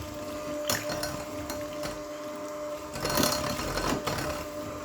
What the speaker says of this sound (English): we're going to mix that all together with the mixer.